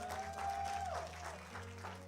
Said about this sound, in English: Give God a hand clap and praise.